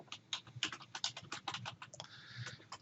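Quick, quiet keystrokes on a computer keyboard, a rapid run of soft clicks with one short pause, heard close up and alone.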